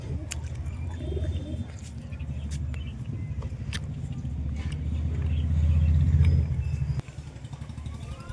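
Low, rolling coos from a small flock of domestic pigeons rise and fall steadily through a continuous hum of background noise, with a passing engine or motorbike in the mix.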